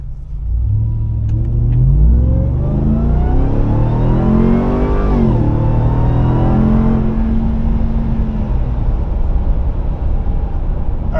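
A Ram TRX pickup fitted with an S&B cold air intake accelerates hard on a drive, its engine note climbing through a long rev, easing off, then pulling again with a deep, loud rumble close by.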